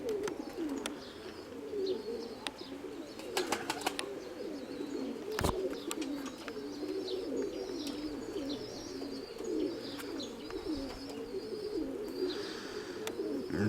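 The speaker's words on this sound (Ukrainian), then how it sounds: "бо я чую, що там хтось Мабуть, голубиньонок." Pigeons coo softly and repeatedly at a dovecote, their low throaty calls rising and falling over a quiet outdoor background, with a few sharp knocks and clicks.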